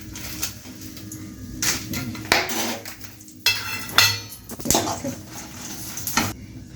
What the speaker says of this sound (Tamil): 15 வத்தல் நான் வறுக்கேன்